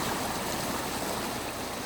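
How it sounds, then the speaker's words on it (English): Swollen, fast-moving water of the North Fork Illinois Bayou in the Arkansas Ozarks rushes with a dense, steady roar that fills the whole stretch, close and loud with no voices. "The water levels are too high and the water is moving way too fast."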